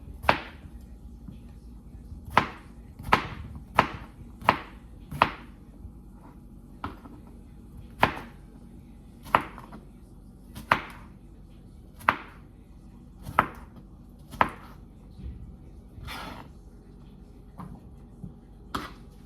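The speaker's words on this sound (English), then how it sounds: "Cut some zucchini." A knife chops zucchini on a cutting board during vegan stir fry prep, giving sharp, evenly spaced thuds that repeat steadily for the whole stretch over a low hum of the kitchen.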